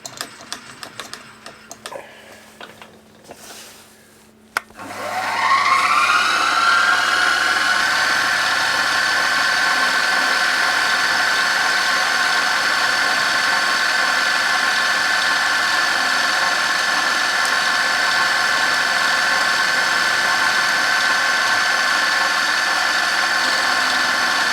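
A metalworking machine steadily whines with a bright tonal hum while taking a light skim cut on a steam valve part for a model steam engine. It starts abruptly after a few seconds of quieter shop noise, then runs close and constant.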